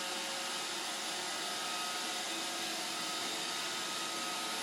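An iRobot Roomba 560 robot vacuum runs on clean polished concrete, giving a loud, steady, continuous whirring hum with no pauses and no voices over it.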